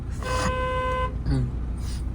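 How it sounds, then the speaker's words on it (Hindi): A car horn sounds once in a sustained honk, then a shorter toot follows, close by amid road noise. "हॉर्न दे दो"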